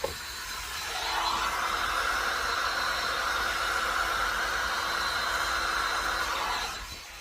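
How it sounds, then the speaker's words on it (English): A heat gun blows steadily on warm molds, a constant airy roar that starts after a second, holds at an even level, then cuts off near the end. "But by using the heat gun"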